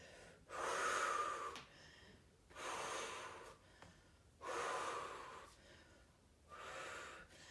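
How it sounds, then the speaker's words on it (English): Forceful exhaled breaths during a Pilates-style floor exercise, four long rushing whooshes in a steady rhythm with short pauses between them, close and fairly loud, with no talking. "Use the breath to switch. Really exhale all that air out."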